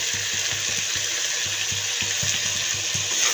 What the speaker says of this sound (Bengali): তো আমি সবজিটা ভালোভাবে কষিয়ে নেব